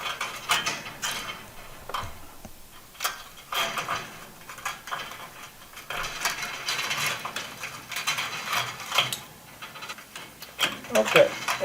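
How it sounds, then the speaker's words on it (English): A wire tie is pulled tight around a garage door safety cable, giving irregular clicking, ratcheting bursts up close, with someone speaking over them at times. "I'm just putting my wire tie around there, pull it up good and tight."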